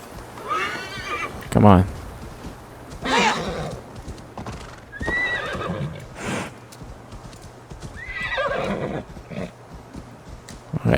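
Several whinnies from a horse in the video game Assassin's Creed Valhalla ring out over clip-clopping hooves, with a player talking briefly over the game sounds.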